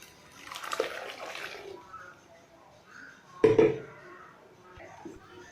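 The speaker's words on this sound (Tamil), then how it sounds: "தேவையான அளவு நம்ம தண்ணி விட்டுக்கலாம்" Water splashes and pours briefly into a pressure cooker while a person talks quietly nearby.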